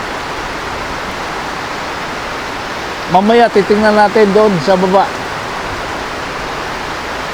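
Heavy rain falls steadily outdoors around a house, a loud, even hiss throughout, with someone speaking briefly over it midway.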